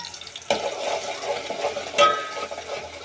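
Garlic masala fries in moderately hot oil with a soft, steady sizzle, punctuated by two clear stirring scrapes of a spoon against the pan.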